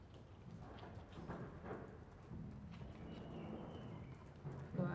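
Rhythmic hoofbeats of a mare in a posting trot during a riding lesson, steady and moderately close, blended with rain-like outdoor noise.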